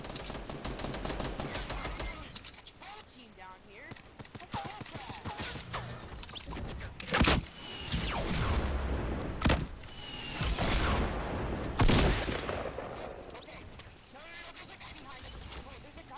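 Gunfire rattles in a Fortnite match: rapid automatic bursts and sharp single blasts come in clusters, some loud and close, while players talk over the shooting.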